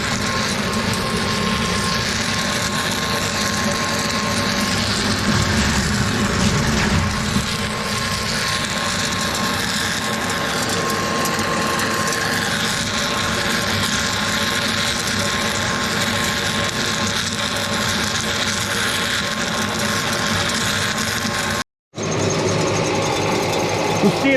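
A grain extruder processing soybeans runs loudly and continuously nearby, a dense rattling mechanical hum with a steady tone, cutting off abruptly for a moment near the end before resuming.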